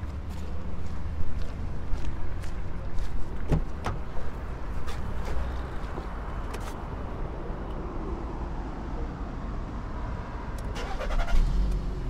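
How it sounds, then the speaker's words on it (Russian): A Skoda Rapid car's engine started and left running, with a few clicks and knocks early on, then a steady low idle hum, close by and moderately loud, with no talking. "Сразу сейчас заведу машину, попробую, посмотрю,"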